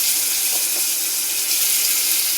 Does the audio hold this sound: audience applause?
no